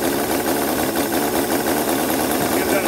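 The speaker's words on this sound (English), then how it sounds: "this is a cold start." Small CISON V8 model engine running just after a cold start with a lumpy camshaft, a dense, buzzing, uneven idle close by that holds steady throughout.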